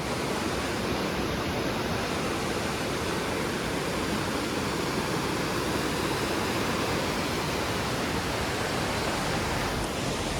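A river rushes steadily, a dense and constant roar of flowing water with no breaks or voices.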